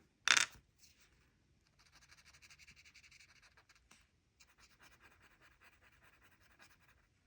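A graphite blending tool is rubbed on paper in soft, rhythmic scratchy strokes after a sharp initial clack, the faint close brushing continuing in short bursts with brief pauses, no talk.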